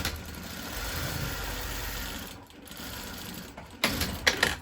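A sewing machine stitches homemade mask fabric in a steady, close whirring run, pausing briefly midway, then resuming with a few louder clunks at the end.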